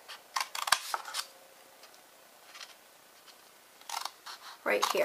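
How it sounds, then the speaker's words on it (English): Scissors snipping paper while making a gift box, a few short crisp cuts at the start and again near the end, with someone talking in between. "So we're going to cut this one, and this one"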